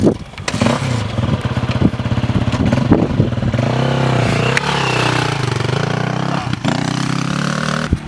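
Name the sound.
motorcycle revving while riding wheelies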